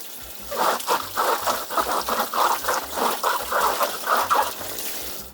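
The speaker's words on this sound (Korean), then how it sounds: "이렇게 물을 틀어놓고 깨끗이 씻어주세요 보면은 뽀드득뽀드득 소리가 나죠" Yuzu fruit scrubbed under a running kitchen tap, a steady trickle of water broken by a regular rhythm of squeaky, splashy rubs, close up with no talking.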